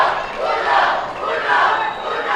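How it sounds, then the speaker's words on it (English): A Mexican crowd at a racquetball doubles final roars and chants in swelling, rhythmic waves, loud and continuous throughout, with no single voice standing out. "The Mexican crowd."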